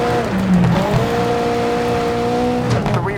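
A racing video game car engine revs and accelerates, its whining tone climbing and holding in pitch, with tire squeal and brief skids, loud and alone with no talk over it.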